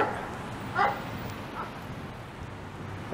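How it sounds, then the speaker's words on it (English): A dog barks from inside a car on a city street during a walk, one short distant yip followed by a fainter bark, set against steady outdoor traffic hum. "Like a dog in a car was barking at him."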